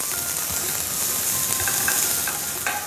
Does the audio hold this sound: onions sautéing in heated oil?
yes